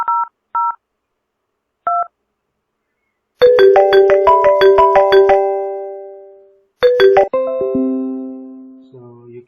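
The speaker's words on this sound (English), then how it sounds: "once I'm calling from this extension, it is dialing here" Phone tones on a FreePBX extension call: a few clear keypad-style beeps, then a bright repeating electronic ringtone melody in two loud bursts, close and clean with no voices.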